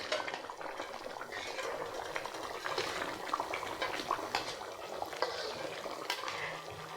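Chicken opor, an Indonesian braise of chicken in coconut milk, simmers and gently sizzles in a pan while a utensil scrapes and stirs now and then, a soft, steady bubbling close by.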